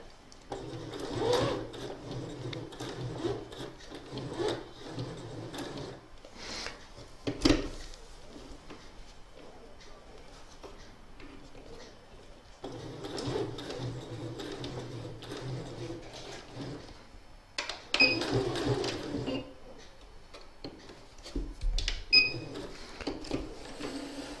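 An embroidery sewing machine stitches the edge of a Christmas table runner, whirring in close, steady bursts with brief pauses and small clicks and taps between runs.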